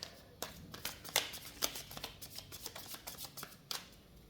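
Tarot cards being shuffled in a quiet room, a run of soft riffling flicks and sharper snaps at an uneven pace, close and faint, with no talking.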